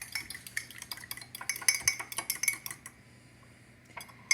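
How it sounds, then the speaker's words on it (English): A fork clinks and scrapes rapidly against a bowl while mixing garlic, basil and oregano, a busy run of close metallic taps that stops abruptly, leaving a quiet pause before one last clink. "use your fork to mix that all up"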